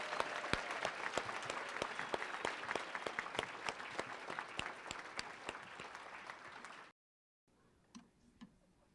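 Applause at a 2014 student awards banquet for elementary school awardees, steady dense clapping from a room of people that runs for about seven seconds before cutting off, followed by quiet room noise with a couple of faint knocks.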